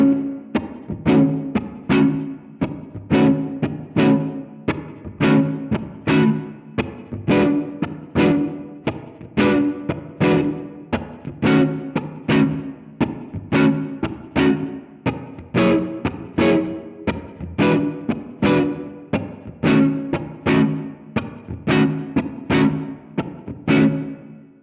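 Electric guitar strums a basic two-chord blues shuffle with a distorted, effects-laden tone, steady swung chord hits repeating loudly throughout with no talking.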